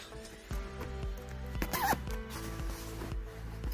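A zipper runs along the wind cover of a Pituso Leticia Classic stroller. It gives a quiet, scratchy zip with a brief brighter burst midway, over a steady low background hum.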